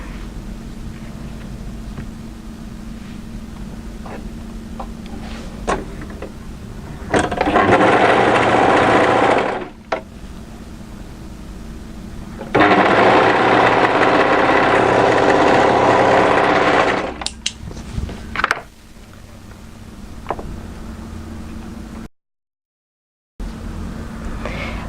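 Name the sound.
overlocker sewing a dress side seam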